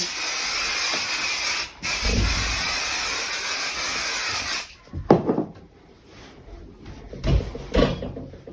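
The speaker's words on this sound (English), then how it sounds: "and then I'm spraying." A steady close spray of water hisses onto quilt fabric for several seconds with a brief pause, then gives way to soft rubbing and handling sounds on the fabric.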